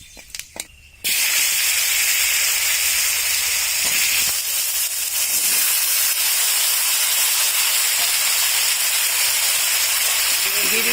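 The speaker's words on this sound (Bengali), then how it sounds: "এখন আমরা সবজিগুলোকে দিয়ে দিব।" Vegetables for a green banana, papaya and fish shukto hit a hot pan of fried spices and cumin. After a brief quiet moment, a sudden loud, steady hiss of sizzling carries on without a break.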